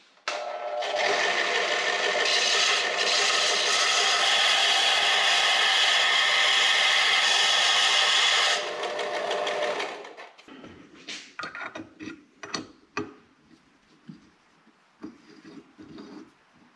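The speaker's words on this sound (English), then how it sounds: "So now we need to put a 1/4-28 thread pitch on the end of each end of this rod." Cutting 1/4-28 threads onto the end of a throttle linkage rod, a harsh continuous grinding rasp for about eight seconds, then scattered scrapes and clicks as the work stops.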